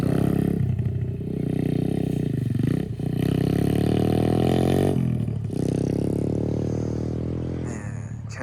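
A new dirt bike engine revs loudly and close, a steady high roar with a brief dip near three seconds and a sharp drop near five, no talk.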